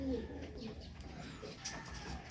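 Faint, low cooing from pigeons hums quietly under a muffled background, with a short higher chirp near the end.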